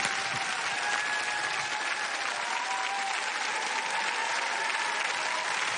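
Loud, sustained applause from a television studio audience at a stage hypnosis show, an even wall of clapping that holds steady throughout with faint tonal sounds beneath.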